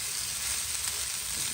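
Egg fried rice with bell pepper and onion sizzles in a hot pan as it is mixed, a short, close, even hiss of frying.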